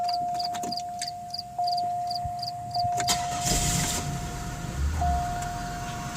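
A 2000 Buick LeSabre Custom starts: a steady warning chime and repeated beeps give way to a brief crank as the engine catches and settles into a very quiet idle, with no talking.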